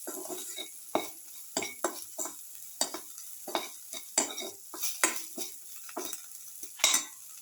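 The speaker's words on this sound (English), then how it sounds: "Salt and mix thoroughly." A spoon stirs salt into a beetroot and yogurt mixture, giving repeated short scraping and clinking strokes against the bowl in an irregular rhythm, close and fairly clear with no talking.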